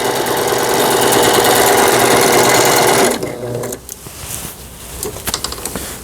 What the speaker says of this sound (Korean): 후진 버튼을 누르고 페달을 밟게 되면 이제 후진이 되는 거고, 다시 또 전진이 되는 겁니다.